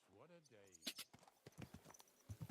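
Horse hooves clip-clop in Kingdom Come: Deliverance II as a rider mounts and moves off, the steady hoofbeats running under a man's speech and a brief whinny-like vocal at the start.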